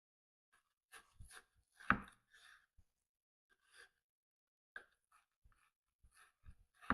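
A knife cuts skinless salmon fillet into one-inch bites on a board, producing soft, sparse taps and slicing sounds with a few sharper knocks. It is close and quiet with gaps between cuts and no talking.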